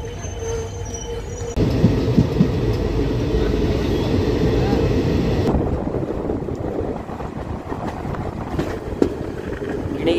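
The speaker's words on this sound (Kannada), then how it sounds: "ಗಿಣಿಗೇರ ರೈಲ್ವೆ ಸ್ಟೇಷನನ್ನು ಎಂಟರ್ ಆಗ್ತಿದೆ ಟ್ರೈನ್." Passenger train on its inaugural special run from Sindhanur to Yeshwanthpur entering Ginigera railway station, a loud continuous rumble of wheels on track with some squealing, heard from aboard the train.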